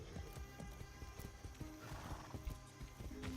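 A horse in the video game Far Cry 6 trots with rhythmic clip-clop hoofbeats and gives a whinny, all heard quietly and continuously.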